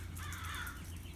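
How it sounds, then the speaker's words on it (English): Crows caw outdoors, a short burst of harsh calls at moderate distance, faint against a steady low background hum with no voices. "hear the crows out there."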